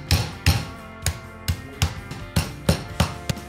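Meat mallet pounding a veal fillet flat on a board for involtini, about ten firm, evenly spaced thuds close up, with no talk over them.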